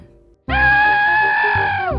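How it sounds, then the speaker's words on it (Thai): A neighbor in The Sims 2 lets out a single loud, sustained scream at a kitchen fire, starting abruptly after a brief quiet moment and holding steady before cutting off. "อีเพื่อนบ้าน จะกรีดร้อง"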